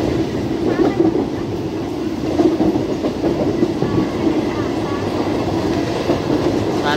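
A Mumbai local train runs on rails in heavy rain, with a steady rumbling roll and rhythmic wheel clatter throughout, close and continuous from inside the carriage, with faint voices in the background.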